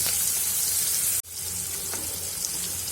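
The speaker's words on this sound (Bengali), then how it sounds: "এখন পেঁয়াজটাকে একটু লাল করে ভেজে নেব" Chopped onions sizzle steadily in a hot pan with chillies while a pasta sauce is started, a continuous close frying hiss with a brief dropout midway and no talking.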